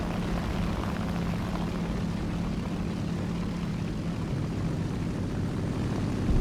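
A biplane's engine drones in a video game chase, a steady, loud propeller hum that holds without a break throughout.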